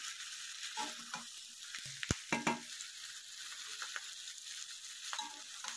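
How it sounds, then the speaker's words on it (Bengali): Onion frying together with papaya and potato pieces in a pan, a continuous soft sizzle broken by a few stirring scrapes and clatters. "এবার পেঁয়াজটাকে ভালো করে একটু লালচে করে ভেজে নিতে হবে সবজির সঙ্গে।"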